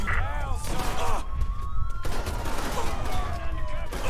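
Gunfire in the Mafia 3: Definitive Edition video game, a busy mix of shots and thuds with whistling tones over it, steady throughout, with voices talking.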